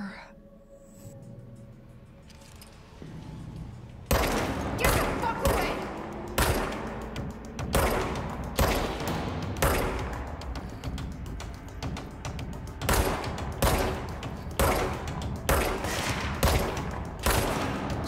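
Gunshots in the action game Control: sharp, repeated bursts of firing in quick clusters, near and loud over a low rumbling background, and they carry on steadily for most of the stretch.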